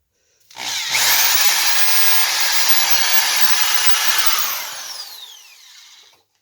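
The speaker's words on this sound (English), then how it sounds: "you can go ahead and drill them all now" A power drill drilling holes for attaching T-track to a DIY router sled form whirs steadily at high speed for several seconds, close by, then winds down and stops.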